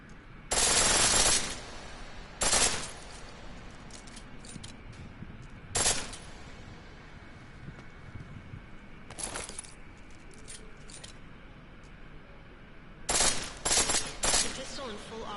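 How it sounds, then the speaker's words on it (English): A pistol firing in full auto in the video game Deus Ex: Mankind Divided: several rapid bursts of sharp gunfire separated by pauses, with quieter single shots and clicks, over a low game background. "The pistol in full auto will take down targets fast, but it'll burn through your ammo"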